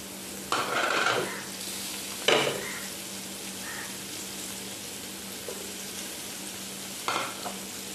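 River fish coated in rice flour and rava sizzle steadily in oil in a pan over low gas, with sharp bursts of spatter and stirring as pieces are added and moved, the hiss continuing evenly between.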